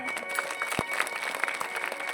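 An audience at a comic Marathi bharud performance breaks into a short burst of clapping, fairly close and busy, fading in and out over about two seconds.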